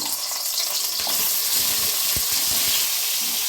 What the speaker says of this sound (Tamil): எண்ணெய் நல்லா சூடான நம்ம இந்த பாவக்காயெல்லாம் சேர்த்துடலாங்க